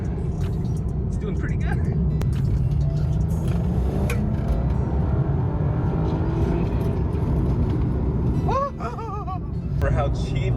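A budget-built BMW 335i E90 with N55 engine and Pure Stage 2 turbo pulls hard under boost, a loud continuous engine roar and road rumble from inside the car, with a driver talking over it.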